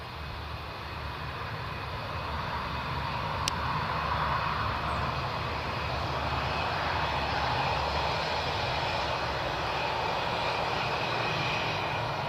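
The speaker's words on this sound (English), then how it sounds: "Airbus A320, as you can see from the back there" An Airbus A320 jet rolls along the runway on departure from Newcastle Airport, its engines roaring loud and steady throughout.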